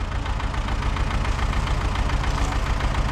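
A YuMZ D-240 tractor engine runs steadily with no differential lock, ploughing uphill on a rain-soaked field. It gives a loud, close, continuous diesel rumble with a rapid knocking pulse and no voices.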